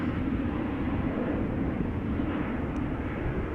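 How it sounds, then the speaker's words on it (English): A KLM Embraer 190 jet departs Schiphol Airport, a broad steady roar of jet engines at constant loudness, dense and rumbling with no pauses. "KLM, Embraer 190 going to Trondheim"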